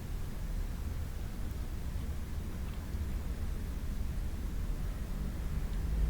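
Steady broadband hiss of white noise, even and unbroken for about six seconds at moderate level, with no voices over it.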